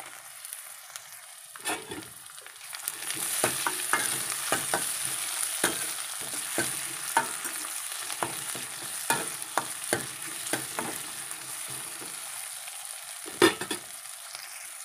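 Tomato stir-fries in a pan with a steady low sizzle, broken by repeated sharp scraping strokes of a spatula at an uneven rhythm, close and without talk.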